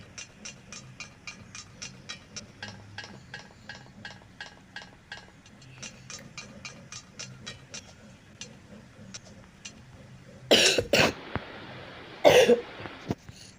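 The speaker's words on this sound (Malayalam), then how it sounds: "അതിൻ്റെ ചുമയാണ്" Two harsh, loud coughs from someone with a fever, close by near the end, following a long stretch of quiet rhythmic ticking.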